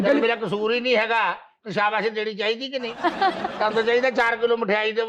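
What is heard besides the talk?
No everyday noises stand out.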